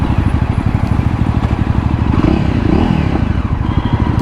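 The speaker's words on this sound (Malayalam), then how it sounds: "ചെറുതായിട്ട് എക്സോസ്റ്റിൽ നിന്ന് പൊട്ടണ സൗണ്ടൊക്കെ കേൾക്കാം നമ്മൾ ഗിയർ ഡൗൺ ചെയ്യുമ്പോഴും" A Jawa Perak motorcycle with its 334cc engine, a loud close exhaust thrum with rapid pulsing and a brief burst of crackling pops as the rider shifts down through the gears.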